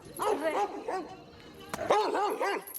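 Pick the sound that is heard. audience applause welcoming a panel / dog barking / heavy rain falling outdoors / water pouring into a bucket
dog barking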